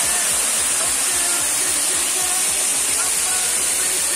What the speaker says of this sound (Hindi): ये देखो वाटरफॉल पे है